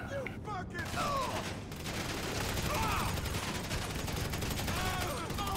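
Rapid bursts of gunfire ring out in GTA V Online, repeated shots and volleys over a noisy game backdrop with faint talk underneath.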